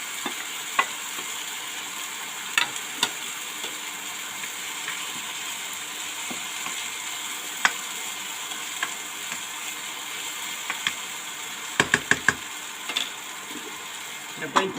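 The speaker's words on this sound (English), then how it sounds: "Then I put in the rice." Leftover rice frying in a pan, a low steady sizzle with scattered sharp scraping and clicking stirring strokes, including a quick cluster near the end, heard close up with no talking.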